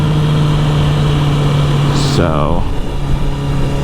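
Honda CBR650R fitted with an Akrapovic exhaust, a loud steady engine drone heard up close, with a brief rising tone partway through and a short spoken word near the middle.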